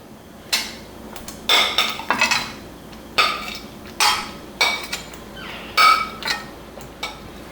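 Paneer butter masala stirred in a metal pan as paneer cubes go in: a string of sharp spoon-on-pan scrapes and clinks in uneven bursts, close and fairly loud, with no talking.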